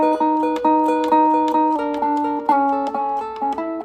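An electric guitar plays a Chicago blues turnaround as clean, ringing picked notes. The short phrase moves in a steady rhythm, loud and close, with no talking over it.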